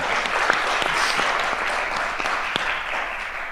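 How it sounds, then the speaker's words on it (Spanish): Audience applause for a voice actress at a fan convention panel on dubbing, a dense, steady clapping that holds for several seconds with a few sharper individual claps standing out. "un aplauso para Eva Yuk, por favor"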